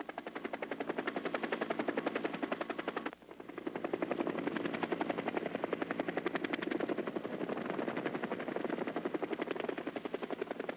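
A Hiller Hornet helicopter runs its rotor with a rapid, steady pulsing chop, loud and continuous throughout, with one brief dip partway through.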